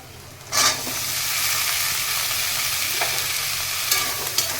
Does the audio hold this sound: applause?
no